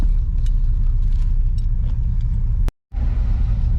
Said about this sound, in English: let's pull her up in the driveway here and see if we can get the idle jumped up just a little bit